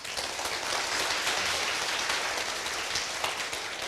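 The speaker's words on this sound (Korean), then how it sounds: "스폰서님 대표님 감사의 박수." An audience at a business success seminar claps in thanks to sponsors and company leaders, dense, steady applause that fills the whole stretch without pause.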